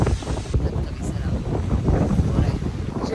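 Gusty wind buffets the microphone on a hotel balcony on the Greek island of Kos in the early morning, a steady low rumble with irregular surges running through the whole stretch.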